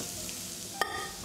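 Softened vegetables sauté in a pan for a dish with octopus and gnocchi, giving a steady soft sizzle and one brief sharp clink of a utensil against the pan, with no talking.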